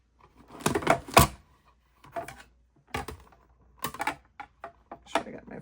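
An embossing folder is cranked through a manual embossing machine, giving a close series of grinding, clacking rolls in uneven bursts with short pauses between.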